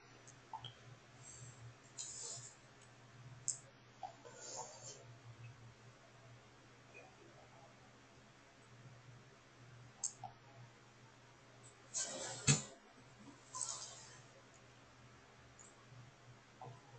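Sparse computer mouse clicks during PC emulator setup, faint and close, a few isolated clicks with a cluster near the end over a low background hum.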